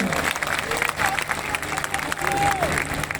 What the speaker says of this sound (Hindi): पूरा सदन तालियों की गड़गड़ाहट से